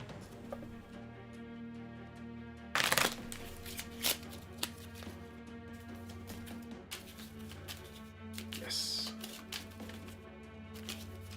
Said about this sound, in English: I'm going to give these ones a good shuffle too